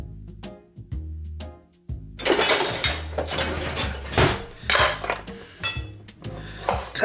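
Knife slicing a lime on a board in a kitchen, a few sharp tapping chops followed by rougher scraping and rubbing sounds of cutting and handling, close and fairly loud, with no talking.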